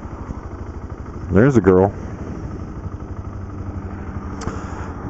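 A 2009 BMW G650GS motorcycle hums along at a steady, even pulse while riding, its low engine note continuous beneath wind noise, with a brief spoken remark partway through.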